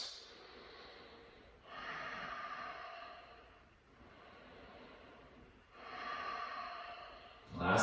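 Yoga students in a live-streamed class take slow breaths, with three long audible inhale-exhale swells spread over several seconds, close and soft, ending in a sharper breath.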